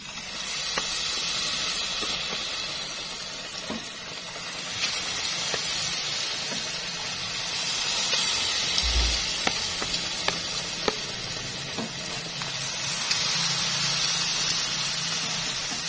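Battered butternut squash pieces deep frying in hot oil sizzle with a continuous bright hiss, with scattered pops and occasional stirring clinks throughout.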